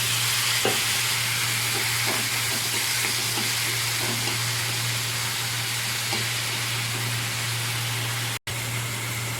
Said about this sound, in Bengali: মশলাটা আমার ভাজা ভাজা হয়ে এসছে